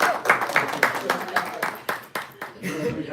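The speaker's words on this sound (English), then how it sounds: "Let's give a round of applause to Manu Shrestha." Audience applause at a devotional gathering honoring a speaker, with uneven rounds of clapping and voices talking over it.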